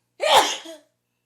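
A single sharp, loud sneeze up close, with a quick breathy burst and a short trailing vocal tail, then silence.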